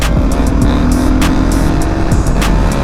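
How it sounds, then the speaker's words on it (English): A Honda Grom motorcycle engine held at the rev limiter, a loud buzzing drone that pulses rapidly as the limiter cuts in, close and continuous with no talk. "He stays steady on the rev limiter too."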